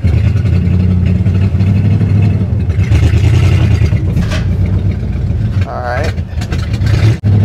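The engine of a 1960 Chevrolet Impala that sat for 32 years idles loudly and steadily up close, with a voice briefly over the rumble.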